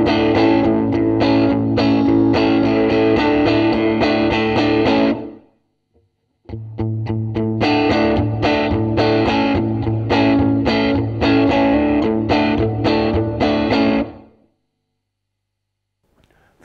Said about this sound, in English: gated reverb is a regular reverb with a gate added afterwards